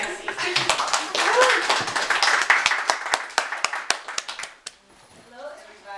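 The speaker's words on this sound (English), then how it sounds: "So let's give a round of applause to Excy." Audience applause for a speaker at a women's center toast event: dense, fairly loud hand clapping from a crowd lasting about five seconds, then tapering off into quiet.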